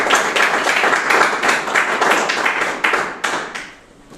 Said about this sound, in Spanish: Por eso date un aplauso.